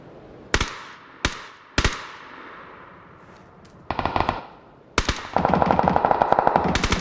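Gunfire and rocket blasts in the PUBG battle royale game: three sharp, echoing single shots spaced apart, then a clipped burst, and finally rapid automatic fire rattling continuously at close range.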